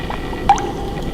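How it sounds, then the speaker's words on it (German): A single short, wet drip-like gulp of drinking water in the survival video game Biosys, brief and close against a quiet background hum, with no talking. "Wir trinken hier schnell was."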